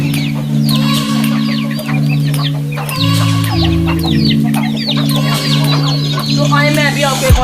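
Aseel and desi chickens cluck and chatter together at a village farmhouse, busy overlapping calls over a steady low hum, with someone talking throughout.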